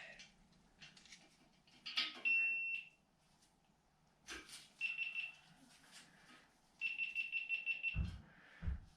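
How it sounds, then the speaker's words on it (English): Low-battery warning beeps from a camera running out of power in a workshop during an R53 W11 engine teardown, sounding as several short bursts of rapid high electronic beeps with quiet gaps and faint clinks between them. "that beeping, that's the other camera going dead"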